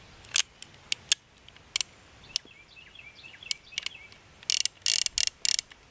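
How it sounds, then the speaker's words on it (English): The cylinder of a Chiappa 22 single-action revolver is fitted and snapped into place, giving a series of crisp metallic clicks and ratcheting snaps, faint and close, clustering into rapid bursts near the end. "Put your new cylinder in, you push the button down, center it all up, it snaps into place."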